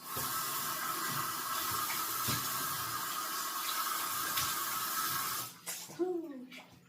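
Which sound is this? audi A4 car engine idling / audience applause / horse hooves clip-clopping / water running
water running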